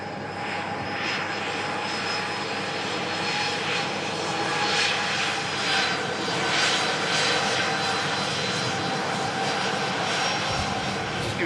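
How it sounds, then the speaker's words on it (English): An EgyptAir jet airliner climbs out after takeoff, bound for Cairo, its engines a loud, steady roar that swells slightly midway and holds without any talk over it. "Egypt Air climbs out back to Cairo."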